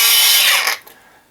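A loud angle grinder whines at speed up close, then cuts out and spins down quickly within about a second, leaving a faint tail.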